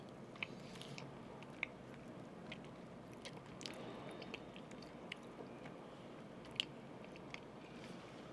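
Ordered food is eaten close to the microphone: faint, scattered bites and soft crunching chews with a few sharper clicks, over a quiet room hiss.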